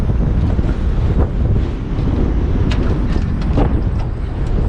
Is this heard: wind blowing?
yes